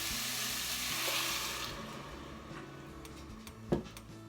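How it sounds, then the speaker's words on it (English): Chicken broth is poured into a hot, sizzling pot of potato soup base, with a bright rushing pour that subsides into quieter bubbling, a few ticks and one sharp clink near the end. "Now that it's all mixed up, I'm going to add some chicken broth."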